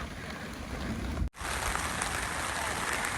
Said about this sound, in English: So there's my tent. Getting rained on quite a bit.